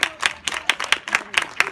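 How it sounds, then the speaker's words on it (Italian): A group clapping for schoolchildren at a school event, eight quick, evenly spaced bursts of clapping in a tight rhythm, close by. "un applauso a questi bambini che sono arrivati a scuola"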